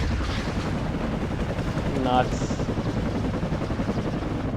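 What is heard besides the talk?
helicopter rockets and artillery fire in video game WARNO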